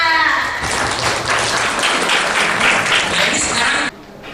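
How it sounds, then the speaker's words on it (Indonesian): Steady audience applause at an Islamic boarding school event in Banjarnegara, many hands clapping together in a dense wash of sound, cutting off abruptly near the end. "tepuk tangan bagi kita semua"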